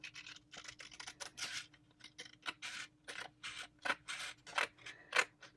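Fingertip X-Acto craft knife slicing through paper with no backing board, giving a run of short, close scratchy cutting strokes in an irregular rhythm, alone without talk.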